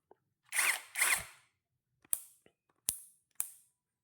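Short bursts from a KEELAT KCD013 brushless cordless impact drill as it drives a screw: two longer whirring runs followed by three brief sharp spurts, close and loud, with quiet gaps between.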